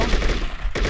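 Enemy gunfire in the True Crime: New York City game comes as a short, loud burst of rapid shots over a dense game background.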